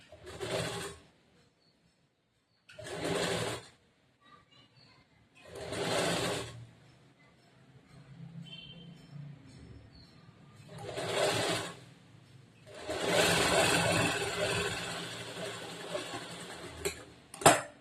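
A sewing machine stitches a blouse sleeve in several short runs, each a dense steady whir lasting about a second, then a longer burst near the end, with quiet handling sounds between.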